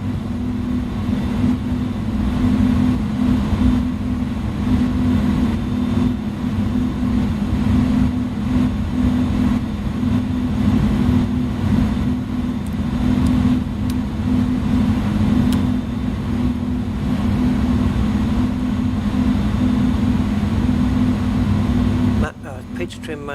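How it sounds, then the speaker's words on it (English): Steady, droning aircraft engine hum in Microsoft Flight Simulator, continuous and loud across the whole stretch before cutting off abruptly near the end. "The engine sounds are incredible."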